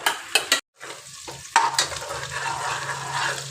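Small onions stirred and sautéed in a pan while cooking a chicken drumstick curry, with a few sharp scraping stirs at the start, then a steady close sizzle that continues to the end.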